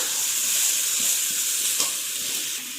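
A masala of onion, tomato and cumin powder sautés in a pan with a steady, close, bright sizzle, broken by soft scraping stirs.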